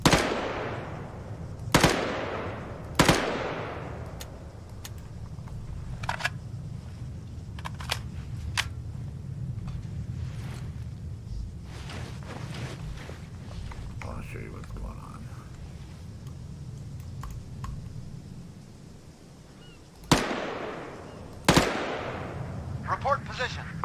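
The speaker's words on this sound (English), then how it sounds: "I'm shooting them way out there" Rifle gunfire in the Arma 3 video game, a few sharp separate shots spaced seconds apart with quieter distant pops between, over low steady background rumble, a pair of loud cracks near the end.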